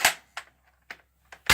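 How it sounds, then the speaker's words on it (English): Nerf rifle cocked and fired, heard as a few sharp, close snaps and clicks separated by short pauses in an otherwise quiet room. "snap it back and you shoot."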